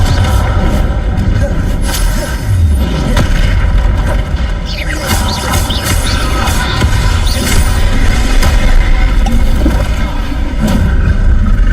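An explosion spell cast in a wizarding action game, deep booming blasts with bursting pops standing out from a loud, constant game soundscape that runs throughout the clip.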